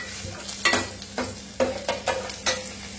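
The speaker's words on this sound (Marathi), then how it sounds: "जेवढं तुम्ही हाय फ्लेमवरती सूप फ्राय कराल तेवढी त्याची टेस्ट छान येते." Soup vegetables with onion fry in a pan on a high flame, a soft steady sizzle broken by sharp scraping strokes of a spatula stirring at irregular intervals, close up.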